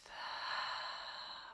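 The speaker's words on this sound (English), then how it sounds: "Taking a big breath," One long, steady inhale during a seated yoga twist, soft and close, alone for about a second and a half.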